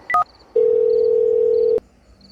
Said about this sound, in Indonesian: coba telepon Udin deh.